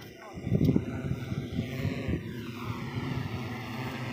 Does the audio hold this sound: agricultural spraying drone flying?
yes